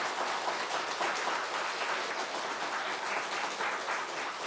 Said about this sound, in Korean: 되면 박수를 한번 보내주십시오.